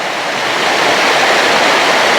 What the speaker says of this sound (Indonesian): Hari ini alhamdulillah kita sedang berada di air terjun